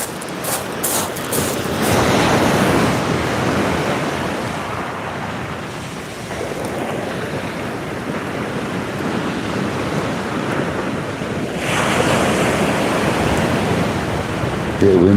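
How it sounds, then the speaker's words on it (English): Steady wind roars across the open sea during kayak fishing, a continuous rushing noise with surf-like swells that stays loud throughout. "Bit of wind coming through."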